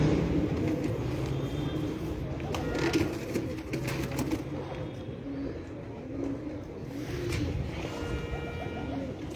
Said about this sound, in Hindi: ये माशाल्लाह 39 नंबर मदीने वाले टैडी कबूतर